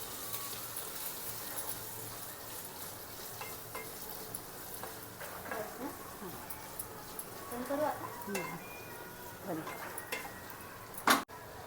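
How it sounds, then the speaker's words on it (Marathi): Potatoes frying in a pan for a fasting bhaji are stirred, giving a faint steady sizzle with soft, irregular scrapes and a sharp clack near the end. "आता आपण त्याच्यामध्ये बटाटा टाकूया हे हलवून घेऊया छान"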